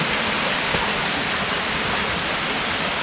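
A small waterfall on a river in Pennsylvania pours steadily, a dense, continuous rushing roar of falling water, close and loud with no voices over it.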